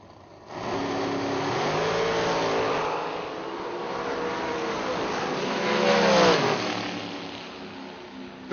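Class 1 transport dragster at a drag racing nationals, engine roaring loud as it launches and pulls hard down the strip, with a second surge of revving before the sound cuts off.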